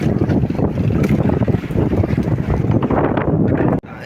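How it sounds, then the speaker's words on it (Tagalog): Strong waves churning around a kayak out on the water, loud rushing and slapping water mixed with heavy wind buffeting the microphone, continuous and rough with a sudden brief dropout near the end. "Lakas ng alon"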